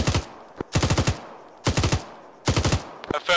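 A machine gun fires in four short, sharp bursts of rapid shots, loud and close, separated by brief pauses, with a faint voice at the very end.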